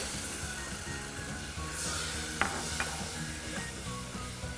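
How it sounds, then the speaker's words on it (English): A spoon stirs a thick mixture of sugar, milk and cocoa powder in a pot, a soft continuous scraping with a couple of light metallic taps. "you just want to mix this together until it starts boiling."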